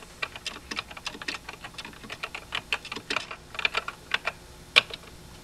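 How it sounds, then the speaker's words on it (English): Text is typed on a computer keyboard at a Synclavier terminal: a quick, uneven run of crisp individual key clicks, close and clear, with no talking over a faint background hum. "Type in some text and then hit return."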